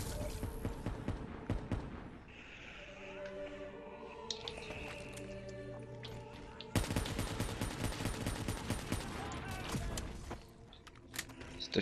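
Rapid automatic gunfire and bursts of shots in the video game Call of Duty Black Ops 3, loud and dense, with a quieter stretch in the middle before heavy firing resumes.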